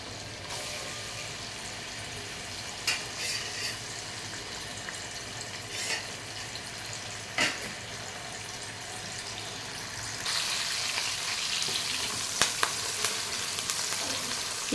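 Thinly sliced onions fry in hot oil, giving a steady, close hiss that swells louder partway through, broken by a few scattered clicks and light stirring knocks.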